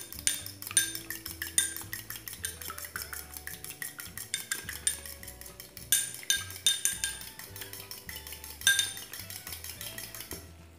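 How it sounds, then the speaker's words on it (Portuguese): A utensil whisks an egg with a pinch of salt in a bowl, making quick, steady clinking and tapping against the sides, close and fairly quiet, with no talking. "Pronto, bati bem o meu ovo."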